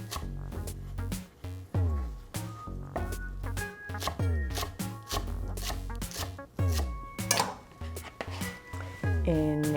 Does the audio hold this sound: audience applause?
no